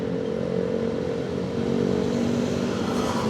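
Motorcycles with loud racing exhausts drone and rev nearby on a road near Jatinangor, a continuous throaty engine roar heard from a moving vehicle with no talking.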